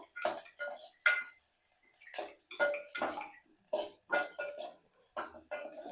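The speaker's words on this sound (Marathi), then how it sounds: "म्हणजे एकत्रितपणे फेटायला लागले अंड" Eggs whisked in a bowl at home for a chicken dish, a rapid clicking and tapping of utensil against the bowl in repeated bursts with short pauses, fairly close.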